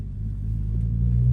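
Low rumbling engine of a classic Ford Escort RS Cosworth building steadily as it accelerates, heard from inside through an open window, growing slightly louder toward the end.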